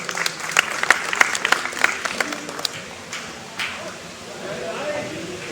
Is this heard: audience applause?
yes